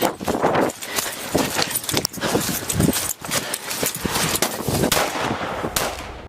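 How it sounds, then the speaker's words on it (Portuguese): Rapid bursts of gunfire crackle in quick succession on a residential street, loud and dense, with sharp repeated reports filling the whole stretch. "Os disparos ecoaram pela rua residencial"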